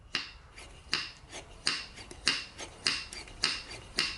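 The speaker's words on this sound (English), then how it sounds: "Always make sure that when you drop the piston," A metal piston dropping repeatedly inside a Zenith Stromberg 175CD carburettor, giving about eight sharp clunky clicks at a steady rhythm, close and clear with nothing else around them.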